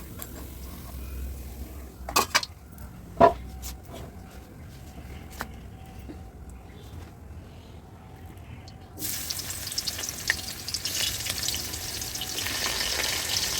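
Fish fry in oil with sharp pops and spatters early on, then the sizzling swells into a loud, bright continuous hiss.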